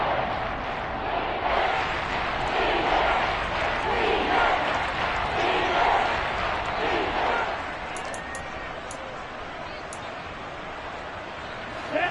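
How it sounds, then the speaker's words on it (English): Stadium crowd noise from a Madden NFL football video game, a sustained roar of cheering and babble building ahead of a big third down, steady and broad before easing slightly near the end. "the crowd getting into it as we come up on a big third down"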